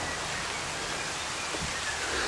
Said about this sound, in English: Y'all hear that rain?